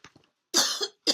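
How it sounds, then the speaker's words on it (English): A woman coughs indoors, a couple of faint short coughs followed by two louder, harsher coughs close to the microphone. "Here I go coughing again."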